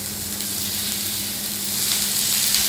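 A burger patty sizzles in a hot pan, a steady, close, crackling hiss that continues evenly and swells slightly toward the end.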